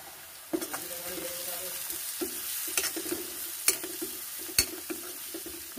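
Ground turmeric, chili and coriander powder frying in oil in a pan over low heat for a raw banana curry, a steady close sizzle with occasional sharp clinks of a spoon stirring against the pan.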